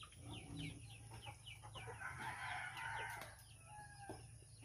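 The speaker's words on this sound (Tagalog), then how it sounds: "May manok." A rooster crows and chickens cluck at a rural spot in the Philippines where native chickens are kept in a coop, faint and somewhat distant, with a steady background hum and no talking.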